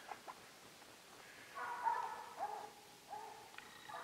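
Far-off hunting dogs bay and bawl at a treed animal in faint, drawn-out howls, several rising and falling calls spread over a few seconds in a quiet outdoor setting.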